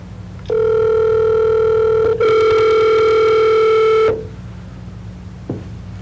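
A steady telephone dial tone hums loud and close for about three and a half seconds, broken by a brief dip partway through, then cuts off.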